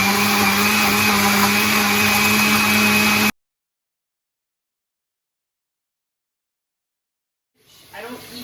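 A blender chops apples and a small piece of celery for a green juice, roaring at a steady high whine for about three seconds before cutting off to silence, then faintly starting up again near the end.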